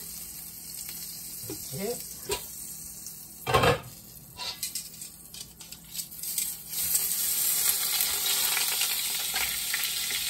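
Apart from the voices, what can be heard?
butter sizzling in a pan while frying chicken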